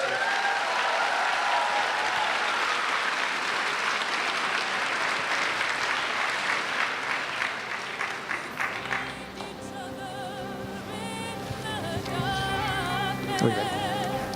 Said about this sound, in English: another round of applause for the class of 2024.